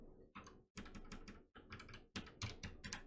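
A computer keyboard clatters in quick, uneven bursts of keystrokes as a long probability formula is typed in Python, close and crisp, separated by short pauses.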